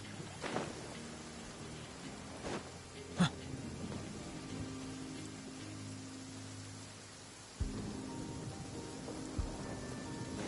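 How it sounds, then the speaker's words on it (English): Heavy rain in Genshin Impact, a steady broadband hiss of downpour running throughout, with a few brief louder thumps and a low tonal game sound under it. "This heavy rain must be quite an inconvenience for you."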